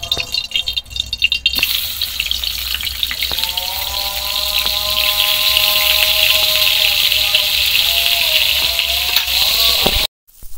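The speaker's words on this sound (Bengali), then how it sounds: "এবার মাছগুলো ভেজে নেবো টকের জন্য।" Pieces of pond-raised silver carp fry in hot oil in a wok, giving a loud, steady sizzle and crackle with occasional clinks and rattles as they are turned, ending abruptly.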